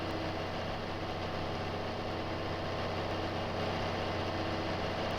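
A modded tractor engine idles in Farming Simulator 22, a steady low diesel drone with a faint mechanical hum, constant and unchanging with no voices.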